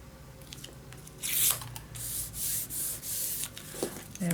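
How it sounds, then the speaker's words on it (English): Paper on a Halloween-themed pop-up scrapbook album is burnished down by hand, giving a series of soft, close rubbing strokes that come in rhythmic swipes after a quiet start. "Burnish it down."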